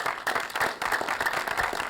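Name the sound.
audience round of applause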